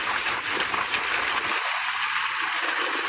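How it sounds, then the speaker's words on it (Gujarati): Water gushes steadily into a village well, a continuous loud rushing and splashing that keeps the same level from start to finish, with no voices. "પાણી ચાલુ છે કૂવામાં"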